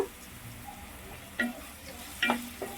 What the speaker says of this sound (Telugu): చక్కగా ఇవి చక్కగా వేయించేసుకుందామండి